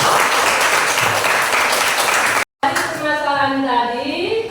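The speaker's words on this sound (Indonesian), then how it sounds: "tepuk tangan untuk kita" Brief burst of classroom applause during a maths lesson, cut off abruptly, after which a voice speaks over the room.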